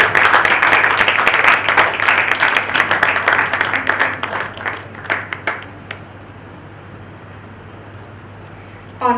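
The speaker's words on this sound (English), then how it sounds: "Huge round of applause, please" Conference hall audience at a medical programme gives a loud round of applause that thins into scattered claps and dies away after about six seconds, leaving quiet room tone with a low electrical hum.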